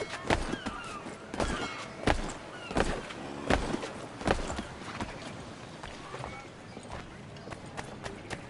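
Horse hooves clip-clopping in Assassin's Creed 3, a steady run of sharp, evenly spaced hoof strikes close by, fairly loud against a faint ambient background with no talk.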